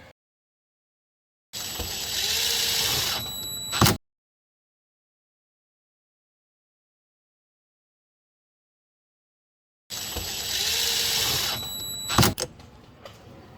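Power screwdriver driving screws back into a Ford Escape Titanium door panel, two steady whirring runs of a couple of seconds each, close up and separated by silence, with a click at the end of each run.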